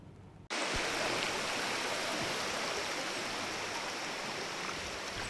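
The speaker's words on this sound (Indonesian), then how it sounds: "harus menyeberangi sungai berarus deras" A swift, strongly flowing river in Mamasa, West Sulawesi, rushes in a loud, steady wash that starts abruptly after a brief quiet moment, close and continuous with no voices.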